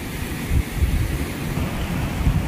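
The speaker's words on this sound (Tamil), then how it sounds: "தண்ணி அப்படி பொங்குது போ." Water surging against the shore at a village spot, heard as a broad, continuous rushing roar with rolling low swells and no voices.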